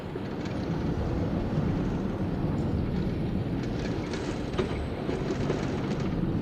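A mine train coaster ride in Planet Coaster rumbles steadily along its rails, a continuous loud rolling clatter with faint rhythmic clicks and no pauses.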